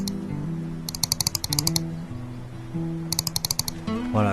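Small fishing noises in the Survival Nation VR game on Pico 4: two bursts of rapid, bright, reel-like ticking clicks over a steady low in-game tone bed, with no talking.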